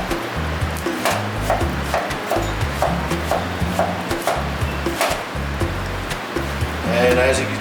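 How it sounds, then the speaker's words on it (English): A knife cubes an onion for bison arancini in a ski-resort kitchen, with steady, evenly spaced chops on a board over a constant musical background. "we're going to cut this onion a little bit"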